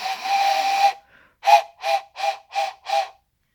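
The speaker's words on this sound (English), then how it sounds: "Let's give a train whistle on this." Steam-style train whistle: one long loud blast lasting about a second, then a pause and five short sharp toots in an even rhythm, close and clear with no talking.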